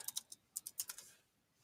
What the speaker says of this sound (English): click where you want to add text and start typing your content.